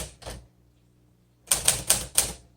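A 1955 Smith Corona Silent Super manual typewriter typing up close: a pair of key strikes, a short pause, then a quick run of four crisp, evenly spaced keystrokes.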